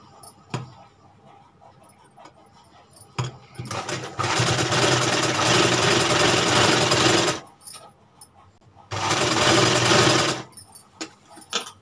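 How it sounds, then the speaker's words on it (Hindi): A sewing machine stitches folded fabric for a sleeve in two loud, sustained runs of several seconds each, with quiet pauses and faint clicks around them. "चलिए इसमें सिलाई लगाते हैं।"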